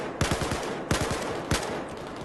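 AK rifle fire in Battlefield 4 on the Siege of Shanghai map: three sharp bursts of rapid automatic shots, each a quick rattling string of three or four cracks with gaps between, loud and close, no talking.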